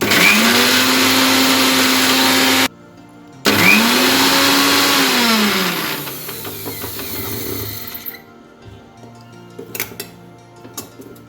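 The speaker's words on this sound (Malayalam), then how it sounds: "നമുക്കിനി ഈ പച്ചമുളക് മല്ലിയില ഇഞ്ചി ഇതും കൂടി ചേർത്തിട്ട് ഒന്ന് ചതച്ചെടുക്കാം" A mixer grinder crushes green chili, coriander leaves and ginger: a loud, steady whirring motor run in two bursts with a short pause, then winding down and stopping, followed by faint clinks.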